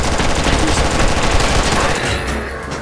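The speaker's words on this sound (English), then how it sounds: "he's shooting me" Continuous automatic gunfire in the video game Red Alliance, loud and dense throughout, with rapid overlapping shots filling the whole moment without a break.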